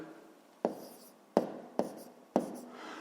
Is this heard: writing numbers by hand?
yes